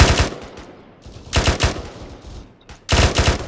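Rifle fire in the ArmA 3 military game comes in three sharp, loud bursts of rapid shots separated by short pauses, each volley echoing briefly, with no voices over it.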